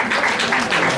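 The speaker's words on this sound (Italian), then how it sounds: "Give yourself a big applause" A short burst of dense audience applause at a DXN Ganoderma health talk in Padova, steady and close with many hands clapping together.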